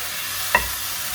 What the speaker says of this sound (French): Voilà, la viande cuit assez vite.